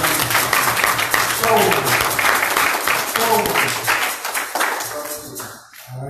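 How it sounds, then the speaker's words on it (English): A church congregation at a Freedom School celebration claps enthusiastically in a lively, rhythmic burst, joined by an organ or keyboard chords and voices, before it thins out and fades near the end. "Give yourself a round of applause."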